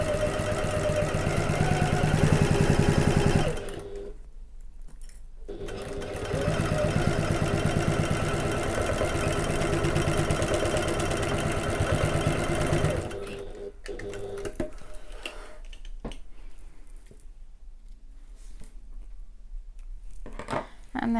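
A sewing machine stitches a bag in long, loud, close runs of rapid whirring, stopping briefly twice before starting up again.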